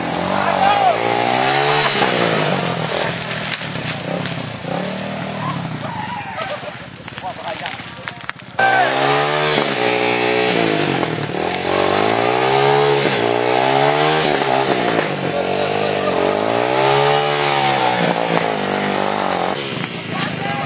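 Loud motorcycle engines roar and rev close by, rising and falling in pitch repeatedly as trail bikes pull in on a mountain trail ride at Gunung Maras, with voices mixed in.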